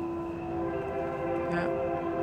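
A loud, sustained train horn drones continuously as a train rumbles past, with a brief higher squeal from the rails or wheels near the middle and no pauses throughout.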